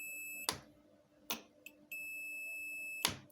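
Two steady, high electronic beeps from a multimeter's continuity tester checking a Q-Power MAX II 8000 unit under repair, the first shorter and the second longer, each bracketed by faint probe clicks. No talking.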